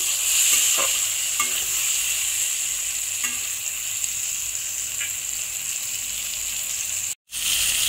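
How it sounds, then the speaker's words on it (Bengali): Ridge gourd pieces fry in a pan with a constant bright sizzle and a few soft stirring clicks, then a sudden brief silence near the end. "ঝিঙেগুলো একটু ভেজে ভেজে নিচ্ছি।"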